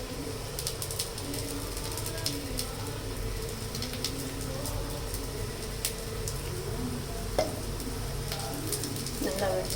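Rice cutlets frying in oil in a pan, a low steady sizzle with occasional faint crackles and clicks, fairly quiet and continuous throughout.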